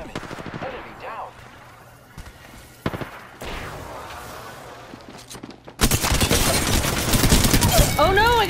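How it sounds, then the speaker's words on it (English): Rapid bursts of automatic gunfire in the Apex Legends video game, heavy and sustained in the second half and intermittent before it, with voices and game sounds mixed in. "The enemy is shooting at me"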